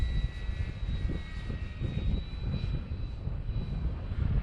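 A Draco model airplane engine drones steadily at a distance, a continuous thin whine with a slightly rising pitch over a rough wind-buffeted background.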